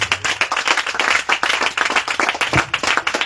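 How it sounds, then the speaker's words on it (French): A church congregation claps and applauds for the Lord at the close of a baptism-preparation service, a dense, continuous burst of many hands close by with no talking. "Acclame très fort pour le Seigneur"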